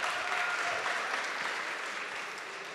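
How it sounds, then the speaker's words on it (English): An audience at the Bright Ideas Summit claps for a speaker, a steady wash of applause that holds for a few seconds and fades slightly. "Let's give Andrew a round of applause."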